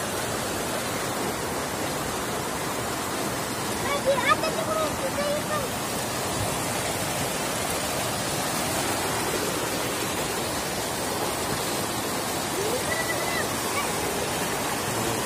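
Three waterfalls at one spot pour steadily, making a broad, constant rushing roar that fills the whole stretch, with a brief bump near the start and no clear voices.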